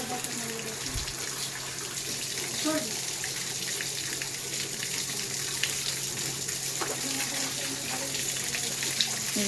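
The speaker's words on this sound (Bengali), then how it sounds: "এই কল দুটো কোনো কাজেই লাগে না, 24 ঘন্টা জল পড়ে।" Water pours constantly from two taps, a steady close splashing rush that runs without a break, with faint background sounds underneath.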